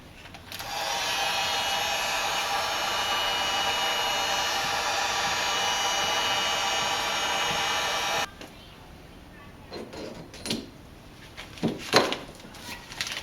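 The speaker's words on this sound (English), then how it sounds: "I'm going to use a heat gun to get these things on" A heat gun warming Dana 20 transfer case parts for an early Ford Bronco rebuild blows a loud, steady hiss for about eight seconds, then cuts off, leaving quieter clinks and handling noises.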